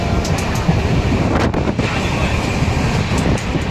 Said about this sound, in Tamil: ட்ரெயின் ஏறிட்டோம்